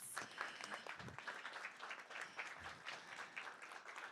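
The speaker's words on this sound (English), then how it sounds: "Everyone, round of applause for our finalists." Audience applause for finalists at a business competition's final round, a steady crowd clapping at moderate distance that fills the whole stretch without letting up.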